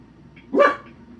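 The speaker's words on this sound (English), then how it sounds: "oh, that's my dog." A pet dog lets out a single sharp bark indoors, close and fairly loud, against a quiet room background.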